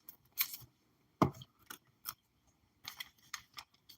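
Scissors snip open trading card packs for a 2025 Underwraps Emanate break, about a dozen short crisp cuts and clicks in irregular bursts, close and fairly quiet.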